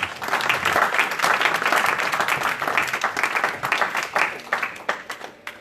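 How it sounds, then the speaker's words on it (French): A church congregation at a French-language service breaks into loud, sustained applause that fills the room, then thins to scattered claps near the end, with some voices mixed in. "Acclamons pour la parole"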